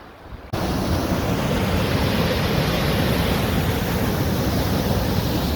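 Keyhole Falls waterfall rushing, a dense, steady roar of falling water heard from the top of the falls, loud and continuous after a brief quieter opening.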